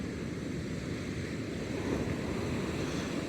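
Pacific Ocean waves on the sunny Southern Oregon coast roll and wash steadily, a constant broadband roar of surf with some wind rumble and no voices.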